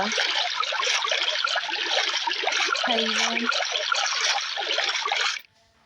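Continuous bubbling, gurgling water sounds of swimming underwater in Minecraft, steady and close, with a brief low tone midway, cutting off abruptly near the end.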